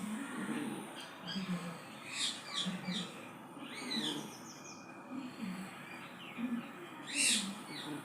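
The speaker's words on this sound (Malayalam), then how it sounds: "ഞാൻ വീഡിയോ എടുക്കുമ്പോൾ എവിടെ പോയിരുന്നാലും ആ തത്തയുടെ സൗണ്ട് കേൾക്കും" A pet parrot gives a few short, shrill calls in the background, faint and intermittent, while a person keeps talking nearby.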